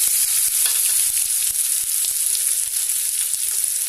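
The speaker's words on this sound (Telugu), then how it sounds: "వెల్లుల్లి వేగిన తర్వాత కట్ చేసిన ఉల్లిపాయలు వేసుకుందామండి." Thinly sliced onions frying in hot oil with crushed garlic for a village-style dried fish curry, giving a loud, steady, close hiss with faint scattered pops throughout.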